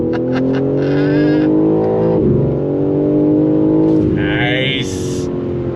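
A BMW M3 Competition G80 with ZF 8-speed automatic accelerates hard at full throttle, a loud close engine note climbing steadily with sharp upshift drops, a man briefly exclaiming over it.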